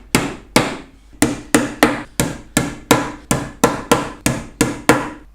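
Fourteen sharp hammer blows drive nails into the wooden end of a top bar beehive, struck at a steady, fairly quick rhythm, each crack loud and close with a short ringing decay, no voices.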